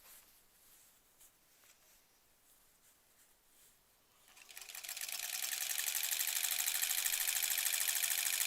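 A sewing machine stitching a granny squares quilt: after a few quiet seconds of faint handling, the motor starts and settles into a steady, fast, continuous whirring hum that stays loud and even to the end, with no talking.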